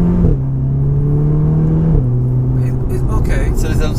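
A 2018 Volkswagen Golf R engine in race mode, holding a steady idle drone that drops in pitch, then rising as it is revved, heard close from inside the car.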